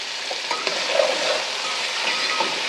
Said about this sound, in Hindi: अब हम इसमें थोड़ी सी पालक डालेंगे बिल्कुल थोड़ी सी